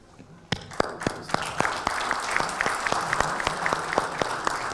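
Applause rises from a conference hall as an intergovernmental committee of experts for North Africa adopts a proposal by acclamation, steady clapping from a sizable audience with several sharp louder claps standing out, no voices over it.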